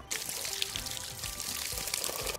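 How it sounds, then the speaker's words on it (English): Water pours steadily into a plastic squeeze ball creator toy, a continuous close splashing gush that holds at an even level throughout with no talking. "Oh, and then we gotta fill it up with water"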